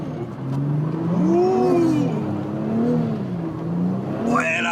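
An Audi RS4 B5 revs on snow, its engine note rising and falling through several sweeping revs, loud and close, ending in a sharp climb to high revs.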